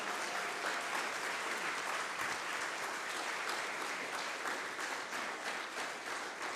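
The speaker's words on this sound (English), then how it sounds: "You can do a quick round of applause." A large audience at a game industry conference talk claps continuously, a dense, even wash of applause that holds steady throughout.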